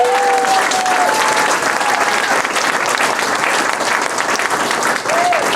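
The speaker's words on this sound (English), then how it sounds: "Let's give him a round of applause." Loud, sustained audience applause at a stand-up comedy set, a thick wash of clapping with a few thin whistles rising above it near the start and end.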